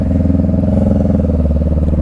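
A motorcycle engine holds a loud, close, steady pulsing thrum in second gear while rolling through a wide U-turn, its rapid firing beat clearly audible with no talking.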